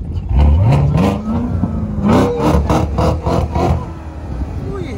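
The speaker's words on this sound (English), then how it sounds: "you hear that supercharger?" A supercharged drift car at a track takeover event revs hard nearby, its engine note climbing and falling in loud surges with a rising mechanical whine, while voices talk faintly in the background.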